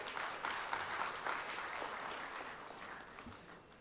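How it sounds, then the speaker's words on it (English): An audience at a business summit applauds, a dense, steady clatter of many hands clapping that fades gradually toward the end, heard without voices. "A big round of applause for him."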